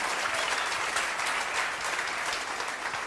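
Church congregation clapping in a dense, even burst of applause with no talk over it, moderately loud and sustained.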